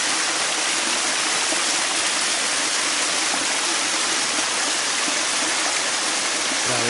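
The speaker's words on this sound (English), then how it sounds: "So there's my waterfall." A waterfall in North Valley roars steadily and close by, a dense, unbroken rush of falling water with no pauses or other sounds.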